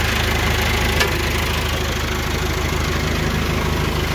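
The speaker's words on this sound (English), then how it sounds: "Driving a Landini. I haven't driven one of these in forever." A Landini 6860 tractor engine idling, a steady close low rumble with an even rapid pulse and a faint mechanical knock, loud and constant throughout with no speech.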